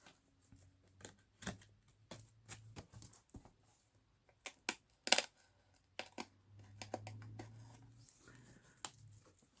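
A craft knife cuts away the stitched signatures of a junk journal, making scattered close, quiet clicks, scrapes and taps of blade on paper, with short pauses between strokes and a few sharper ticks.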